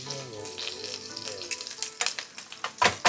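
Steady frying sizzle of daikon slices in a pan with crackling pops and a few sharp clatters of utensils toward the end, fairly close.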